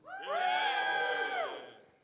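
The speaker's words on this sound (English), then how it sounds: "Okay, if you think Soda, make a noise" A convention panel audience cheers and shouts together in one loud swelling burst of mixed voices that rises quickly, holds for about a second, then fades away.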